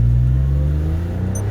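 A 2001 Porsche 911 Carrera 4 (996) roars loudly and close as it launches from a standing start. The engine holds a low, steady, droning tone that eases slightly over a brief moment.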